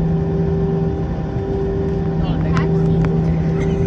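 An American Airlines A321 airliner taxis, its steady engine hum filling the cabin with a constant drone and a whining tone running throughout; a few faint clicks and brief voices sit over it.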